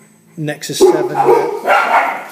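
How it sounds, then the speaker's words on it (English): Dogs bark and yip in a quick excited burst close by indoors, with a few sharp barks followed by whining yelps, while someone speaks at the start. "Excuse my crazy dogs there."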